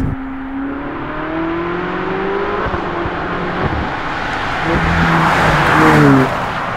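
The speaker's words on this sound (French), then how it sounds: "Les accélérations sont stupéfiantes." A Ferrari sports car that reaches 100 km/h in about 3.4 seconds accelerates hard: a loud, close engine note climbs steadily, drops briefly at gear changes, then surges higher again.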